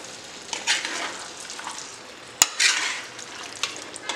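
Chicken and masala sizzle steadily in a pan for a Dogra-style Jammu chicken curry, with bursts of stirring scrapes and one sharp utensil click partway through.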